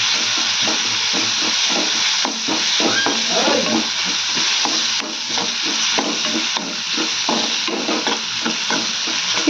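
Garlic paste stirred into baby potatoes frying in a pan, a loud, continuous close sizzle with rhythmic scraping stirs throughout and no talking.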